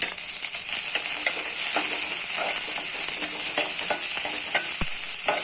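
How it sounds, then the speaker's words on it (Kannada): Garlic sizzling steadily in hot oil in a pan, a constant bright crackle and hiss with occasional small pops and a faint clink of a utensil, close and without talk. "ಬೆಳ್ಳುಳ್ಳಿನ ಹಾಕಿ ಫ್ರೈ ಮಾಡ್ಕೊತೀನಿ"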